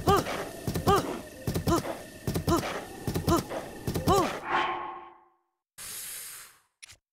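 Hooves of a very large horse in a video game clip-clopping in a steady, close rhythm, joined by snorting, whinny-like sounds, then a short burst of noise near the end.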